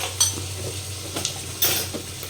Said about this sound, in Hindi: पहले प्याज को अच्छे तरीके से हम भुनाई करेंगे, तो हम भुनाई करने देते हैं